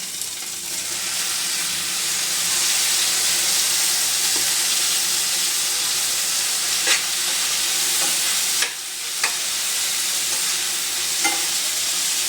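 Tomato and coriander with masala sizzle steadily in a pan for egg gravy, a close, continuous frying hiss with a few light stirring clinks and no talk.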